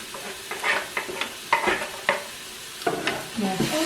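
Chopped onion and garlic are stirred into chicken in a multicooker, with repeated scraping strokes over a light sizzle, close and moderately quiet, and no one speaking.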